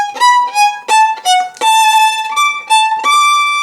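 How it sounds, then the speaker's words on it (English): One violin phrase layered ten times over itself, a short bright melody of sustained bowed notes with a few quick changes, loud and alone, still sounding like a single violin. "if you copy it and paste it 9 more times, it sounds like this."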